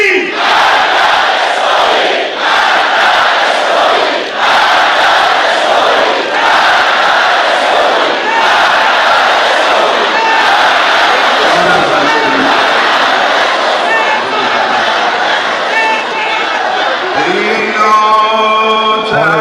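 An Iranian crowd chanting Death to America and Death to Israel, a loud, dense mass of voices in rhythmic, repeated surges that fill the whole stretch.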